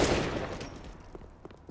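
Counter-Strike gunfire in a DreamHack Masters grand final match on the map Nuke: a dense burst of rifle shots up front that tails off into scattered fainter reports and clicks.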